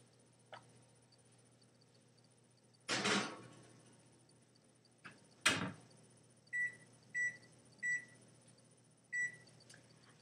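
A microwave-style oven control panel beeps five times in a steady, evenly spaced series while set to bake cake batter blondies, after a couple of louder clunks of the oven door; no one speaks.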